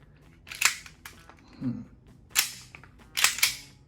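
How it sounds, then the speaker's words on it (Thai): Four sharp, snappy pops from a WE Hi-Capa 5.1 airsoft pistol dry-firing without BBs close by, spaced unevenly with a quick double near the end. "มาใส่แมกกาซีนลองยิงเทสเสียงเปล่าให้รับชมหน่อยครับ"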